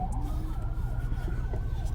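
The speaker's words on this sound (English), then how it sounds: "I saw the ambulance. Why is the ambulance red?" Ambulance siren near Buford Dam at Lake Lanier, a wavering wail over steady low vehicle rumble, passing at moderate distance.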